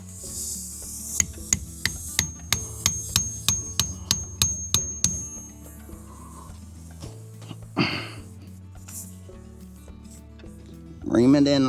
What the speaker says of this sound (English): Ream it in a little more.